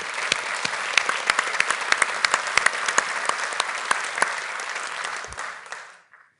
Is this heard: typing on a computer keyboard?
no